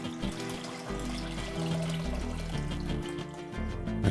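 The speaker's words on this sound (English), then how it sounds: "we have to pour it away" Whey pouring away while homemade feta cheese is made, a steady splashing liquid stream running continuously at close range, with background music playing throughout.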